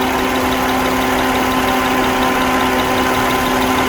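Car engine idling with a spark plug wire pulled off, a steady loud mechanical hum with a constant low drone and faint regular ticking, no voices.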